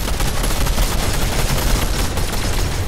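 Rapid automatic gunfire in a shooting video game, dense repeated shots in a continuous loud barrage, close and without pause.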